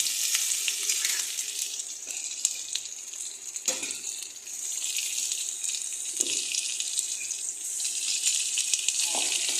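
Grated ginger dropped into hot tempering oil with dried red chillies, whole cumin and a bay leaf in a kadai, giving a bright, dense sizzle with a few stirring knocks.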